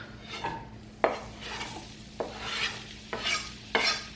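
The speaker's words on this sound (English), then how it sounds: "If you don't hear the sizzle, your oil wasn't ready." Steady hissing sizzle of potatoes frying in hot oil, with a few sharp scrapes and knocks as they are stirred in the pan.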